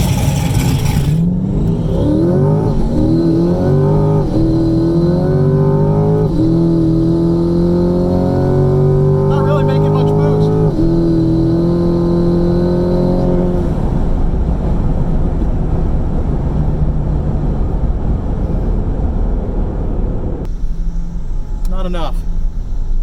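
A twin-turbo C8 Corvette accelerating hard on a race track, engine tone rising through several gears with shifts, loud and close, with wind buffeting and a voice talking over it.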